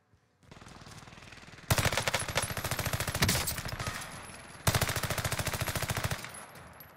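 Rapid automatic gunfire in the video game Warzone, bursts of fast, evenly spaced shots at close range, with a sustained stream, a short gap, then another long burst.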